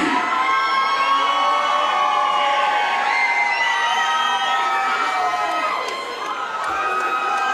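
A crowd at a Battle at the Barracks event screams and cheers for a free shirt giveaway, a loud, sustained roar of shrieks and whoops that dips briefly near the end.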